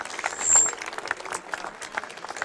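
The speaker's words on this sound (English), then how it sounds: "Can we get a round of applause for all of our dignitaries in attendance today" A crowd at the 2017 Clarkston basketball state championship parade claps for dignitaries in a brief, uneven burst of outdoor applause.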